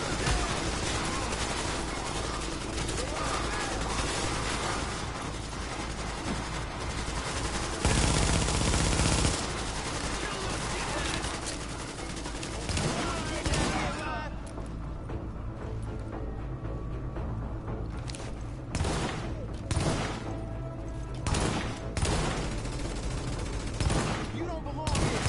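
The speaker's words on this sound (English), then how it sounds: "I'm shooting through the fence." Sustained video game gunfire in The Division, with rapid automatic bursts and scattered shots continuing throughout at close range, mixed with a voice talking over the shooting.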